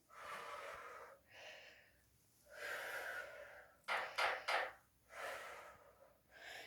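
Heavy, rhythmic breathing during a full-body toning workout, a series of loud breathy inhales and exhalations with sharper gasping bursts near the end, close and without talk.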